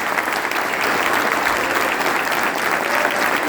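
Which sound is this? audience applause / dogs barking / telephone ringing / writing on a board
audience applause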